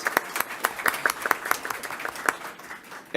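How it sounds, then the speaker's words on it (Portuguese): Brief applause from a seminar audience, a scattering of distinct, fairly close hand claps in an uneven rhythm across a few seconds, with no talk over it. "Depois das palmas."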